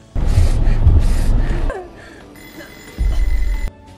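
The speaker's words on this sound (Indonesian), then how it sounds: "si Kopet pun mendengar suara alarm yang berbunyi." An alarm rings during a scene in the 2009 horror film The Collector. Loud, rushing noise comes first, then a steady electronic ringing holds with a sharp burst of sound over it before it cuts off.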